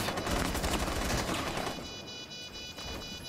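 Gunfire in the tactical shooter Rainbow Six Siege, a dense rattle of rapid shots that is strongest at first and then thins into quieter, fainter firing.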